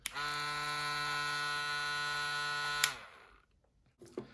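A steady electric buzz with a strong harmonic hum from an electric foil shaver runs for about three seconds, then cuts off abruptly, leaving quiet with a faint click near the end.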